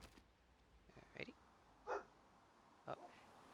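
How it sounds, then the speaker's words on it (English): A dog barks in the background: three faint, short barks about a second apart, over a quiet room. "I don't know if you can hear him, but he's barking again."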